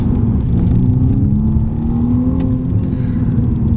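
A 2020 BMW M235i Gran Coupe accelerates hard with a loud, steady engine roar that climbs in pitch, heard from close up with no talking.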